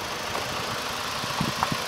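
A 2003 Nissan Primera 1.8 16V petrol engine idles with a steady close hum and light ticking, a few small knocks rising over the even drone.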